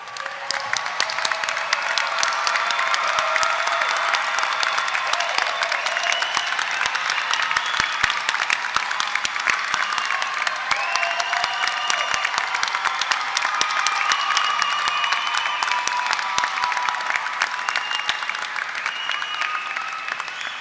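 Sustained audience applause at a 2024 university commencement ceremony, with graduates standing to applaud families and friends; dense steady clapping from a large crowd, fairly loud and even throughout, with no talk over it.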